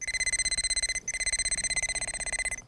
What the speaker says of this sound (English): this is going to show you what it sounds like when in the beeping mode